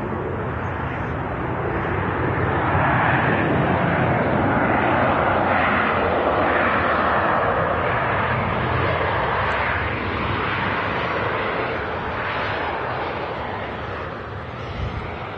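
Ryanair airliner at Manchester Airport, a loud steady engine roar filling the whole stretch with a broad rushing wash that swells slightly midway and holds without pause.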